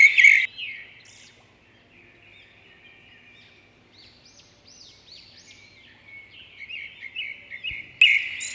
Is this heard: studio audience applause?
no